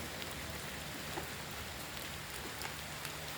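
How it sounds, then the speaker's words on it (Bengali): Steady light rain patters at night on wet leaves, an even, gentle hiss of drops with faint scattered taps and no one speaking. "এখন একটু বৃষ্টি হচ্ছে, গাছের পাতা ভিজে আছে।"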